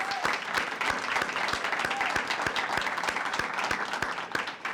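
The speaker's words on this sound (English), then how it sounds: "Let's give them another round of applause." An audience applauds after a children's music performance at a library dedication, steady dense clapping from a sizable crowd lasting the whole stretch, fairly loud with no voices over it.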